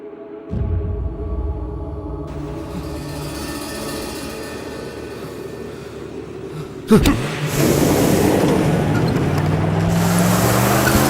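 A vehicle starts up and pulls away, a steady engine hum running for several seconds before a sudden thump and a louder, rougher roar of acceleration close by.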